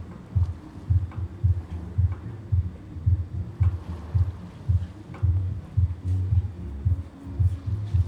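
A sewing machine stitches a folded shirt wristband with a fast, even, low thumping rhythm that runs throughout.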